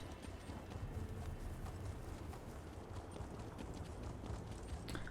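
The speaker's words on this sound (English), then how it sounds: "I just leveled up my horse or my mount on the PC." Hooves of a horse mount clip-clop at a steady running pace in Elder Scrolls Online, a continuous rhythmic patter over game ambience with no talk.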